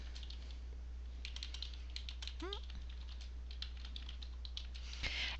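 Keys tapping on a computer keyboard while text is entered into a Google Docs document, a quiet, irregular run of clicks over a steady low hum, with a faint swooping chirp partway through.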